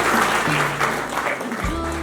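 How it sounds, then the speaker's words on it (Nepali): Applause at a village Christian wedding ceremony in Dhading, a steady wash of clapping from a crowd throughout, with a voice talking and low hum underneath. "ताली गरेर खुसी हुनुहुन्छ"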